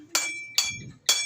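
A small hammer dropped, striking a hard surface three times in about a second as it falls and bounces, each hit a sharp bright metallic clank with a ringing tail, close and loud.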